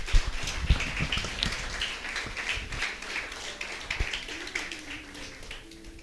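A church congregation claps steadily together, a dense patter of many hands filling the room, gradually thinning out toward the end.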